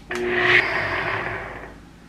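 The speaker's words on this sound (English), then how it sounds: "I'm going to attempt to do it in my blender first" A kitchen blender whirs loudly for about a second and a half while trying to blend homemade beer mustard, then strains and winds down, with no talking.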